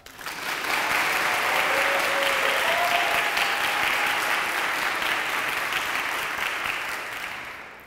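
Sustained audience applause and cheering welcoming a senior speaker to the stage, a dense, loud wash of clapping that swells quickly, holds steady for several seconds, then begins to fade.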